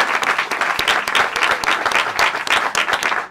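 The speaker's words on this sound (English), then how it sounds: "Please give them another round of applause." An audience at a college communication hall of fame ceremony applauds honor students, steady clapping with a few sharp claps at close range, sustained for a few seconds with no talk over it.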